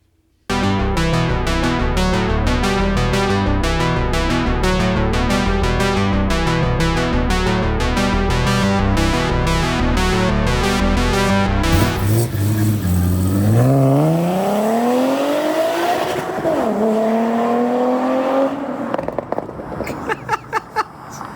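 Supercharged Audi B5 A4 2.8 V6 running close by, first a steady rhythmic idle, then revs that climb and fall in several rising sweeps before settling back.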